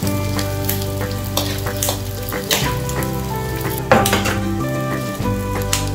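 Pork for sisig fries loudly in oil, a dense, continuous sizzle mixed with scraping, stirring clatter and a steady humming drone underneath.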